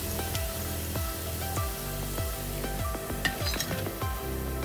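Noodle pakora balls frying in hot oil, a steady close sizzle and bubbling with repeated clinks and scrapes of a spoon or ladle stirring in the pan, no talk.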